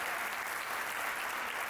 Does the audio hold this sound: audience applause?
yes